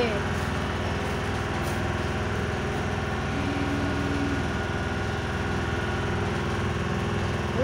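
A moving train carries a continuous, steady rumble of engine and wheel noise heard from inside the carriage, with a voice and chatter nearby.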